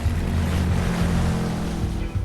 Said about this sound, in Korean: 선착장에서 보트를 타고